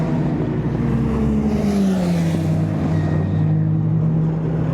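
Race cars at Silverstone on a quiet opening lap, tyres warming, pass as a steady engine drone with a clear pitch sliding downward as they go by, continuous and moderately loud.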